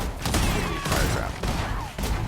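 A fire trap fires in Path of Exile, giving loud, close, broadband bursts like a fusillade of rapid blasts, with brief gaps between flurries.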